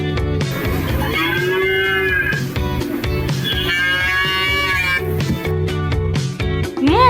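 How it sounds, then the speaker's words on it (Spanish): A cow moos twice in long, drawn-out calls over a cheerful children's farm-animal tune that keeps playing loudly throughout. "¿Cómo hace la vaca?"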